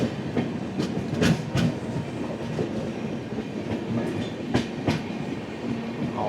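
The 16332 Express rolls along the tracks with a steady rumble and recurring clickety-clack of wheels over rail joints, heard from inside a 2A coach, continuous and moderately loud.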